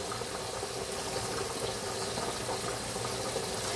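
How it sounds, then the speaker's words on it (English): Green beans simmer in broth in a pot, giving a steady, soft bubbling hiss that holds even and unbroken throughout, with no voices. "just stirring up these green beans and getting it in the broth. And letting them cook down."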